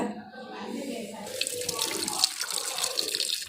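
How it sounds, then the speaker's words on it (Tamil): Water pours and splashes steadily as cooking water is drained off palak spinach through a strainer, a continuous close-up trickling and gushing sound. "கீரை தண்ணியை நல்லா வடிகட்டிக்கிறேங்க."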